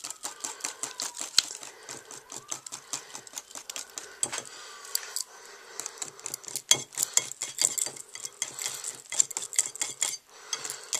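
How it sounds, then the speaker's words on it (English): A whisk or mixer beats pudding mix and whipping cream in a bowl for a Boston cream pie, a busy, continuous rapid clatter and whir with sharp metallic ticks, close and fairly loud. "whipping my pudding mix and my whipping cream, and you're gonna want peaks"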